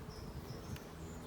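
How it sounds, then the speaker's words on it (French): Honeybees buzz steadily around an open hive during an inspection of new queens' laying, a soft continuous drone close by with no talking. "il y a des abeilles, c'est calme"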